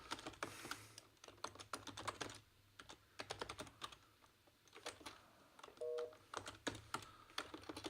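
Someone types on a computer keyboard in quick bursts of close, crisp key clicks, pausing briefly between runs, with a short electronic beep partway through.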